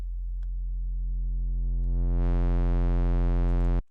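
Sub bass from a Serum software synth with distortion pushed gradually higher: a steady, loud low hum that grows brighter and buzzier with added harmonics before cutting off abruptly.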